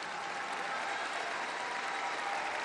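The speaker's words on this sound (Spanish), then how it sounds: "les pido que se levanten para que les podamos dar un fuerte aplauso" An audience at a national meeting of women lawyers in Mexico City gives a sustained round of applause, a dense, even wash of clapping throughout.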